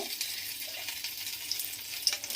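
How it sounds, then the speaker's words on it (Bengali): Bay leaves and dried red chillies sizzle in hot oil, a faint, steady high crackle with a couple of tiny pops, heard close with no talking. "এই তেলের মধ্যেই আমি দুটো তেজপাতা, দুটো শুকনো লঙ্কা একটু ফাটিয়ে"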